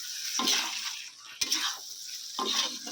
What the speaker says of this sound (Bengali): সব কিছু মিশিয়ে নিচ্ছি চাপা দিয়ে মটনটাকে আমি খুব ভালো করে কষিয়ে নেব